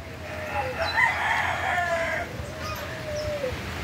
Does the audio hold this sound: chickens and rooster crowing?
yes